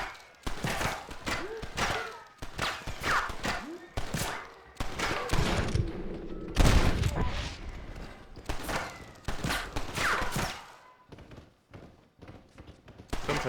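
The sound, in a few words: gunfire in the video game Red Dead Redemption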